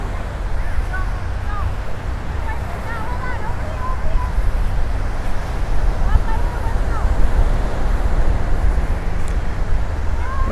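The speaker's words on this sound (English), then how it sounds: "People enjoying the little waves" Small waves breaking on Vanderbilt Beach, a continuous close wash of surf mixed with wind rumble on the microphone, steady and fairly loud for the whole stretch.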